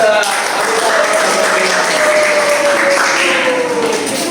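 A class applauding during a school lesson on culture and diversity, a steady blur of clapping hands lasting a few seconds, mixed with a continuous tonal voice-like line, likely children's voices or cheering in the room.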